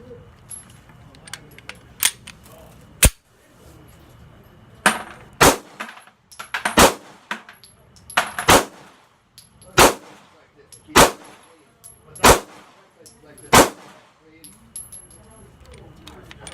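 A Taurus G2S pistol is fired in about a dozen sharp, loud reports at uneven intervals, with faint clatter and handling noise in the quieter gaps between shots.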